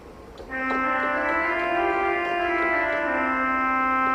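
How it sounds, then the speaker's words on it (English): A pipe organ bassoon reed stop sounds a steady, reedy low tone after a brief pause, holding one sustained note with rich buzzy overtones, loud and even for several seconds. "This one is a bassoon."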